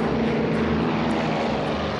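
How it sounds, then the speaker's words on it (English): A Beechcraft 1900 commuter turboprop departing Charlotte, North Carolina, gives a steady, loud propeller and engine roar with a low droning hum that holds evenly throughout. "US Airways Express Flight 5481 departs from Charlotte"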